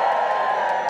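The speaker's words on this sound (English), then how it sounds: "Give us a cheer if you've been to the pantomime before." A pantomime audience cheers and whoops in a dense, steady roar of many voices, loud and close throughout.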